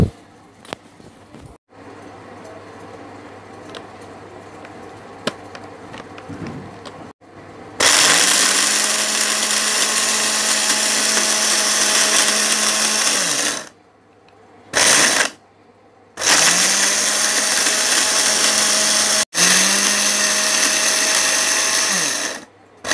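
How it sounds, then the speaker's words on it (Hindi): An electric grinder whirs loudly in several bursts of a few seconds each, grinding spices and lemon for a homemade digestive powder, with quiet handling clicks before the first burst. "अब इसको मैं ग्राइंड कर लूँगी, पीस लूँगी, पीस कर जार में डाल दूँगी।"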